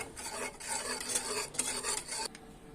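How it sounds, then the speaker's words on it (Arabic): A knafeh mixture is stirred steadily in a pot over heat, giving a close, continuous scraping and rasping with a few brief pauses. No one speaks. "قدرنا نقلب كده باستمرار لحد ما يبدأ يقلب معانا"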